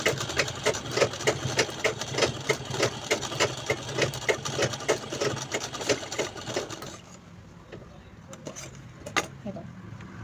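Domestic sewing machine stitches a zipper onto a small purse, a fast, even mechanical chatter running steadily for several seconds, then stopping into quieter handling noises with a few faint clicks.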